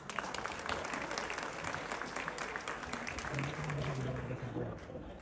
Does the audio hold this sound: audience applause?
yes